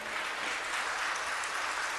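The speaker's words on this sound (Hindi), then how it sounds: "ताली मरी मराई बजी है।" An audience at a Hindu devotional discourse gives limp, half-hearted applause, a thin even patter of hands that holds steady for a couple of seconds without any rise or cheering.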